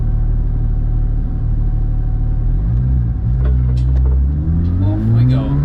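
Loud, close engine drone from inside a 700 hp 9FF Porsche GT3 Cup race car at the Nürburgring, a steady low rumble whose pitch climbs toward the end, with a voice talking over it.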